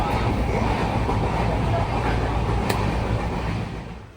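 A train rumbles steadily at close range at Vaibhavwadi railway station, a dense low roar with a brief sharp clank partway through, easing slightly at the end.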